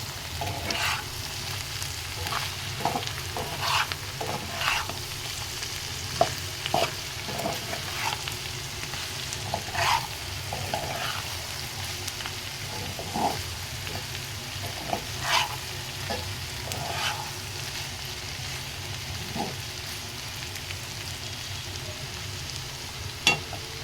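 Bitter gourd and shrimp stir-fried in a pan, a steady low sizzle with repeated scraping and clinking of a spatula against the pan, close by and without talk.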